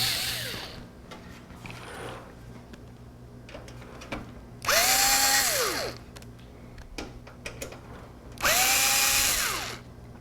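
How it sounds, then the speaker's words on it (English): A powered screwdriver removes PCI slot covers from a computer case, giving two separate bursts of high motor whine, each lasting about a second, with quieter handling clatter between them. "So back to my screwdriver."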